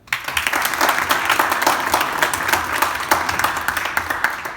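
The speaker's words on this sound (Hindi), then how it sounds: "तो मेरे लिए ताली बजाओ यार" Audience applause at a humorous Hindi road-safety motivational talk, dense hand clapping rising quickly and holding steady, loud and close, with no voice over it.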